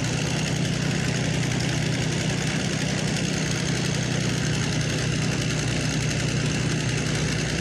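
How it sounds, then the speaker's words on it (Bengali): A dredger machine's engine runs continuously beside a small canal during shrimp fishing, a loud, steady, close mechanical drone with no pauses. "তার পাশে একটি ড্রেজার মেশিনের জন্য তেমন একটা কিছু বোঝা যাচ্ছে না"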